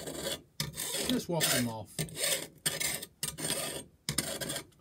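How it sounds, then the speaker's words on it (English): A hand file rasps high points off the blade of a hand tool, several short back-and-forth strokes in a steady rhythm, close and fairly loud, with a brief spoken remark partway through. "if you've got any high points on them, you may need to take a file to it"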